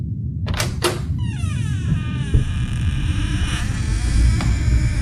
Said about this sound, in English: As they opened the door,